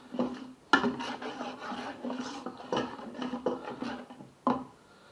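Fish soup for a marmite du pêcheur is pressed through a sieve with slightly larger holes, making irregular scraping and rubbing strokes with a few sharper knocks, close and moderately loud.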